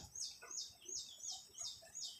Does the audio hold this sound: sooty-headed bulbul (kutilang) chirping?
yes